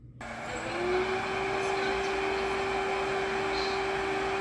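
A SmartMi A1 Vortex Wave robot vacuum mop starts up, its motor whirring up to speed and settling into a steady mechanical hum with a high whine, continuous and close.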